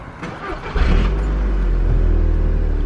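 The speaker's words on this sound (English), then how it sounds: "Start the car." A car engine cranks and catches, then settles into a steady, loud idle close by.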